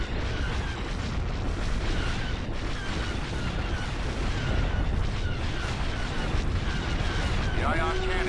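Space station coming under attack in the strategy game Star Wars: Empire at War, a dense continuous roar of explosions and weapon fire across the whole stretch, with a rising electronic tone near the end.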